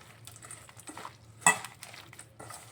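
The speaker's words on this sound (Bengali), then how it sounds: "এখন ভালোভাবে আমি হাত দিয়ে মেখে নিচ্ছি" Hand-mixing watermelon rind with cumin and Kashmiri chilli in a bowl, soft faint squelching and stirring sounds with one sharper clink midway, quiet and close.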